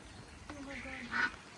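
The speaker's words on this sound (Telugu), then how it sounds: "బాతులు." A single duck gives a short quack at a city farm, close but faint, with a brief burst of other noise just after.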